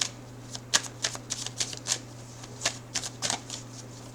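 Tarot cards are shuffled and drawn in quick, crisp bursts of riffling and flicking, close and fairly quiet, with irregular pauses between the sharp paper snaps over a low steady hum.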